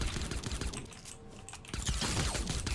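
Rapid bursts of gunfire in the battle royale game Fortnite, dense crackling shots in quick succession with a brief lull midway, loud and close.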